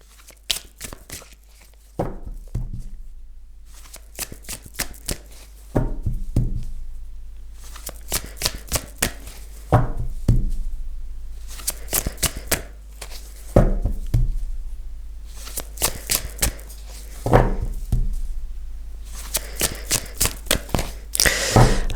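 Tarot cards shuffled over and over, a dense flurry of crisp riffling snaps and slides in repeated bursts, close and clear with almost no talk.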